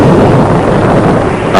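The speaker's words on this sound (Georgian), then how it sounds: "აფეთქების ხმა ავსებს ხეობას." A blast booms through a Caucasus mountain gorge at a construction site, a loud, sustained low rumble that fills the whole moment and rolls on like an echo.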